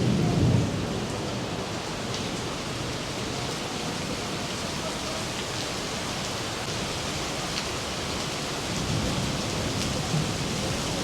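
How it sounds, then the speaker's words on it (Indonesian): Heavy downpour of a Brisbane thunderstorm roars steadily and densely, with low thunder rumbles near the start and end; people shelter nearby and talk faintly beneath the rain. "sekarang banyak orang berteduh juga nih di bawah karena hujan deras banget"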